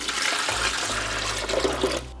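Water pours steadily into the reservoir of a Silonn countertop ice maker, a continuous close rushing splash lasting about two seconds with a low hum underneath and no talking.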